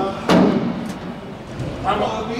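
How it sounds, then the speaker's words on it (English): A medium soft hammer strikes a Lancaster bomber's tail plane during restoration, one sharp thud followed by a fainter knock, with people talking nearby. "We've got a soft hammer."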